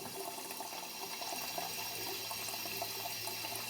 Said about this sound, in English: I'm going to turn this water on, and I'm going to get the water as hot as I can stand it.